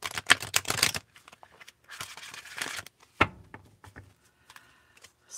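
Quick bursts of papery riffling and soft slaps of a thin-cardstock tarot deck being shuffled, with pauses between, close by and moderately quiet.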